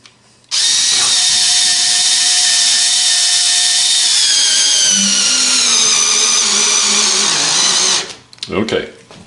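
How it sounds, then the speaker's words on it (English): A Ryobi power screwdriver whines loudly and steadily for several seconds, its pitch dropping as a 1 1/2 inch screw bites into the wood, then stops, followed by brief handling noise. "Drill this in."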